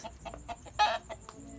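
Several chickens cluck in short, soft, irregular bursts close by, with one louder, rougher squawk in the middle of the brief stretch.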